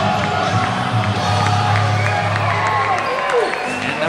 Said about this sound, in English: This crowd on their feet, dangling their keys, ready to get out of here.